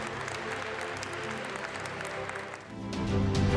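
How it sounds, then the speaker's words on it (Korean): Audience applause at a national future car industry vision ceremony, a full steady clapping from a large crowd that swells louder near the end. "수고해 주신 성윤모 장관께 여러분 큰 박수 부탁드립니다"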